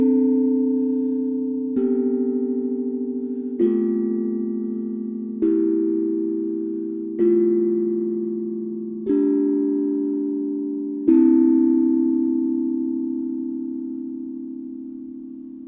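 Seven tongue drum notes ring out one after another about every two seconds, each a clean metallic tone that decays slowly and overlaps the next. The last note sustains longest. Recorded close and clear with a Shure MV51 microphone, with faint background hiss.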